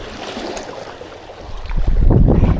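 Strong wind buffets a kayak out on the water during fishing, a rough broadband rush that swells louder toward the end.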